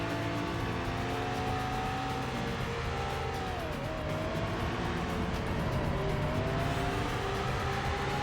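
A car drives hard in the Stuntman stunt-driving game, its engine a continuous loud drone that rises and falls in pitch as it accelerates and swerves, with no voices over it.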